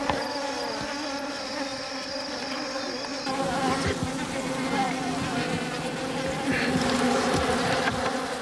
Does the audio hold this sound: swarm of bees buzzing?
yes